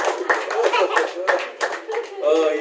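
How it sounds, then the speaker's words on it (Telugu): Audience clapping at a church birthday celebration and song inauguration, a steady patter of hands mixed with voices and a little laughter, moderately loud and close. "చప్పట్లు కొట్టండి అందరు కూడా."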